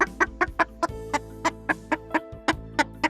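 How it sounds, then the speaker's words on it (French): A hen clucks in a steady series of about a dozen short, sharp clucks, evenly spaced and fairly close, against a faint low background hum. "et la poule caqueta."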